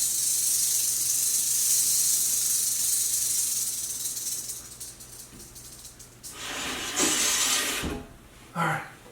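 A venomous pet snake rattles its tail in a continuous buzzing hiss for several seconds, then the sound fades into a few scattered handling noises and short bursts.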